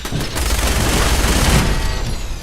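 Sustained minigun fire in Fallout 4, a dense continuous roar of rapid shots with heavy low booms, loud and unbroken throughout.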